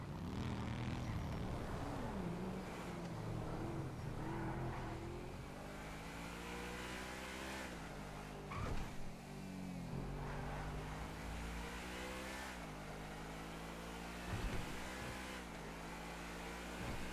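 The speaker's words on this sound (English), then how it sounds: "Motorcycles." Steady engine drone of motorcycles in a FiveM roleplay game, rising and falling harmonic whine as they rev and cruise, continuous and fairly loud with a couple of brief dips.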